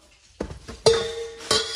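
Stainless steel cooking pots are handled, with three sharp metallic clinks and clanks at uneven intervals, close and fairly quiet, each ringing briefly.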